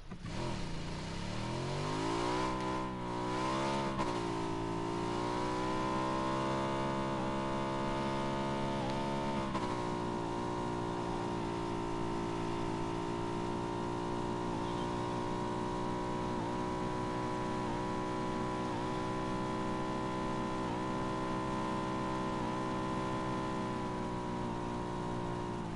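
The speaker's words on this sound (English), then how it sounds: "because the motorbike's quite loud" A motorbike engine in the PUBG video game drones loudly and steadily, revving up in the first few seconds and then holding a constant mid-pitched hum, with no talk over it.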